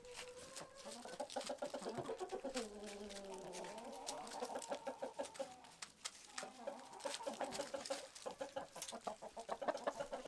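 Farm chickens clucking nearby, with a steady stream of short, overlapping clucks and some drawn-out calls.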